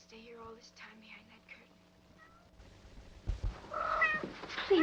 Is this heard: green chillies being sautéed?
no